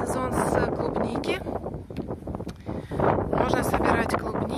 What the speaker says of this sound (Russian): Опять ветер.